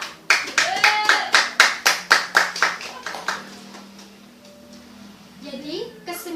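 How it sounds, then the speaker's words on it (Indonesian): An audience claps for three mentors at an Indonesian education-curriculum seminar, a burst of about a dozen sharp, rhythmic claps that fade into murmuring room noise, with a voice speaking near the end. "Beri tepuk tangan untuk ketiga mentor kita."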